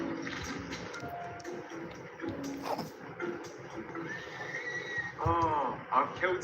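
Minecraft horses neigh and whinny several times, one long descending whinny near the end, mixed with hoof clops and a person talking over them.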